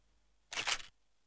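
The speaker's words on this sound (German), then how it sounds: "Schieß am besten gleich ein Probefoto." A camera shutter firing once for a test photo in the video game Story of Seasons, a short, crisp mechanical snap over near silence.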